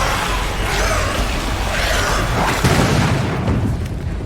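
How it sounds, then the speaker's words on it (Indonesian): A car explodes in a loud, sustained blast with a rumbling roar and crackling debris that builds and stays heavy throughout, with no voices. "sebuah ledakan tiba-tiba dari dalam mobil"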